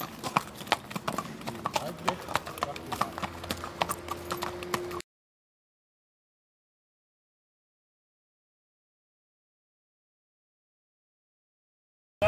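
Trotter horses clip-clop past on a harness racing track, a quick steady hoofbeat rhythm with people talking nearby, then the sound cuts off abruptly to silence.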